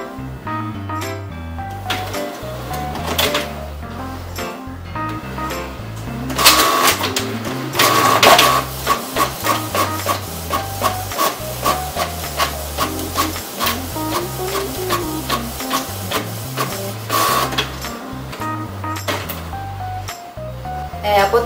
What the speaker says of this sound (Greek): Θα εκτυπώσω τώρα μία ασπρόμαυρη σελίδα για να δοκιμάσω την ταχύτητα εκτύπωσης.